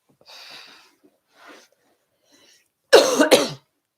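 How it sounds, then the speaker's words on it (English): A few soft breathy sounds, then one loud, close cough burst with a brief double hack near the end. "One day this cough will be over."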